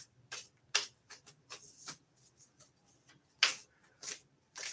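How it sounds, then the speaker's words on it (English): Quiet, close shuffling of a Goddess oracle card deck during a live reading: a string of soft, irregular flicks and riffles with small gaps, no voices. "I've been sitting here shuffling the Goddess deck"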